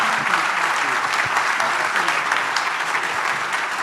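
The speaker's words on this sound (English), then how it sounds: "One more round of applause for Walter Isaacson, Governor Edwards, Steve Case." An event audience gives a round of applause for the panel guests, a full, sustained patter of many hands clapping at once, close and even, without speech over it.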